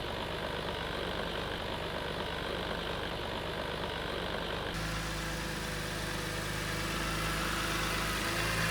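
A car engine idling steadily after a transmission repair, a continuous close mechanical hum with no talk over it.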